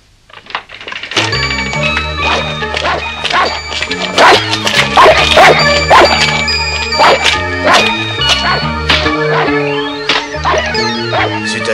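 A cartoon dog barks furiously in rapid, repeated yaps over bright, busy music, loud and close throughout.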